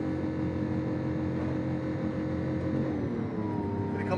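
A Lamborghini sports car's engine revs hard under acceleration on a Malibu test drive, a loud, steady, rising roar heard from inside the car with no talking.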